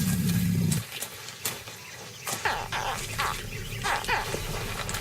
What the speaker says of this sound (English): The noisy hatchlings called their mother from the river.